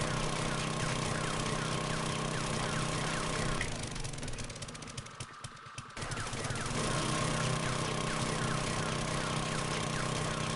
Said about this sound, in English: Lucky that I have a pretty decent auger, or else this would take much longer.